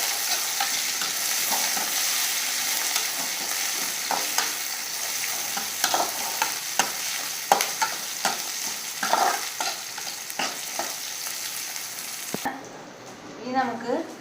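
Garlic, green chilli and curry leaves sizzle in a frying pan while a spatula stirs them, with steady frying hiss and irregular scraping knocks throughout, ending abruptly in a brief quieter tail.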